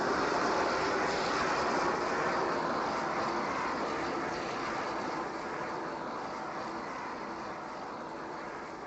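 Jet aircraft engine in the video game ARMA 3, a steady broad roar with a rushing hiss that slowly eases in loudness over several seconds, with no other sounds standing out.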